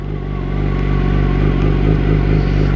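A Kawasaki ZX10-R motorcycle engine idling loud and close, a steady low rumble with a slight rise partway through.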